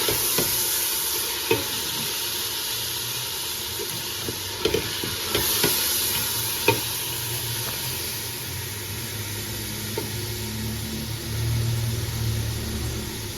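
Spices and tomatoes for a chicken pulao masala are roasted in a pan, with a continuous close sizzle broken by occasional sharp clicks and scrapes of the spoon against the pan.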